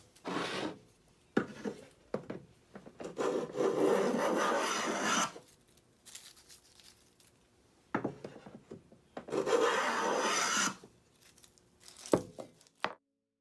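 An oily rag scrubs the inside of a rusty Stanley rabbet plane in repeated rubbing strokes, several sustained scrapes separated by short pauses, close and moderately loud.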